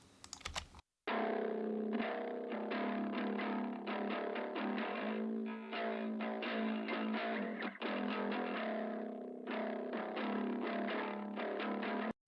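Harsh distorted bass high channel, with bass and mids stripped and treble boosted, through a signature guitar amp model, loud and buzzy throughout a riff with short gaps, after a brief quieter lead-in.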